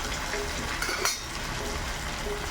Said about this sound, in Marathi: आता उरलेले जे वडे आहेत आपण ते असे 2-2, 3-3 करून त्यामध्ये छानपैकी फ्राय करून घ्यायचे आहेत.